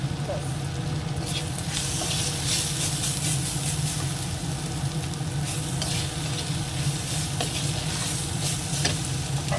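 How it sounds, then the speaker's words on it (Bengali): Prawn curry masala, made with small river prawns, sugar, salt and chilli powder, stir-fried in a pan: a constant dense sizzle and frying hiss with rhythmic scraping of the spatula throughout, close and loud, no voices. "আস্তে আস্তে করে কষাতে কষাতে হাফ সেদ্ধও হয়ে যাবে"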